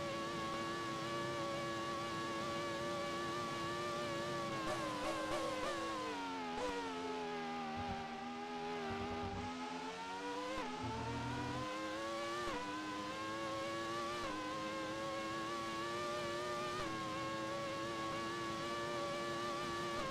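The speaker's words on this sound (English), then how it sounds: "GP2, that's how GP2 sounds in Automobilista." The GP2 race car in Automobilista drones steadily throughout, a dense wobbly engine note that dips as the car slows and then climbs back to a sustained high whine, loud with no talk.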